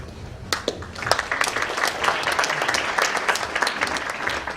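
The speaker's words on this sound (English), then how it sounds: "A big round of applause" Audience applause at a youth awards ceremony, a dense wash of many hands clapping loudly and steadily throughout, with a few sharper claps standing out near the start.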